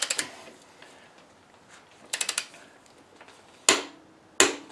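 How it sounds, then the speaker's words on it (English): A torque wrench tightens lug nuts to 90 foot-pounds in a crisscross pattern during a brake and rotor job: several sharp mechanical clicks come in small bursts, separated by quiet pauses, close and fairly loud with no talking. "Torque to spec in a crisscross pattern."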